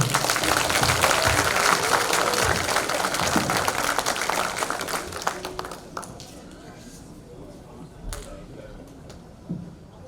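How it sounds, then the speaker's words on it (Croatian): Audience applause for a tamburica band at a Petrinja song evening, dense sustained clapping that swells loudly at first and then thins and fades, with a few scattered claps and voices near the end. "Pozdravimo ih jednim velikim pljeskom."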